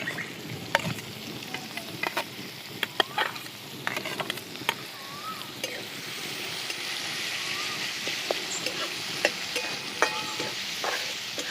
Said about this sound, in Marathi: हिंग, इथं कांदा टाकून चांगला भाजून घेते